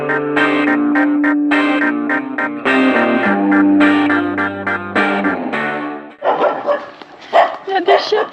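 Dogs bark around a quiet Thai town, first under a dense, tonal wash of other sound and then in sharp, separate yaps near the end, fairly close and loud.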